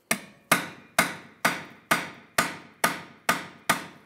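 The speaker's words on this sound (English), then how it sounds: "And just hammer on this." A manual impact driver is struck with a hammer to loosen a brake rotor screw on a 1998-2010 VW Beetle. Nine sharp, evenly spaced metallic blows ring close and loud, each decaying quickly, with no talking.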